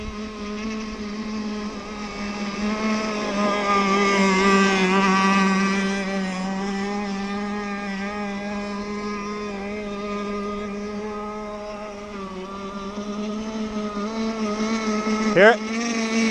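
Cracker box racing boat engine running rich on its maiden run, a steady droning motor note that swells and fades gently, with a brief sharp rev near the end.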